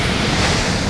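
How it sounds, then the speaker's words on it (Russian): Large ocean waves breaking on a sandy beach in Phuket, a loud, steady wash of surf with wind buffeting the microphone throughout. "Волны огромные"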